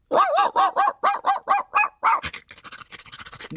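A dog barks on command, giving a rapid series of about ten close, loud barks in a steady rhythm, followed by quicker, softer yips and vocal noises.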